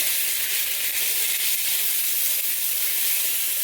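Onions and garlic sizzle steadily in a hot pan, a continuous bright frying hiss at an even level with no pauses and no talking.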